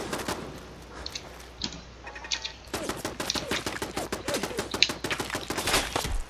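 Turret gunfire in the video game Fallout 4, starting as scattered shots and then running into dense rapid bursts that stay loud and close for the last few seconds.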